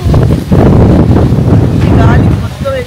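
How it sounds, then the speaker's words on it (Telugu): Strong wind buffets the microphone at an outdoor shoot, strong enough to nearly blow an umbrella away, as a loud, steady rumbling roar that runs the whole time with a faint voice beneath it. "గాలి మొత్తం ఎగిరిపోతున్నాయి"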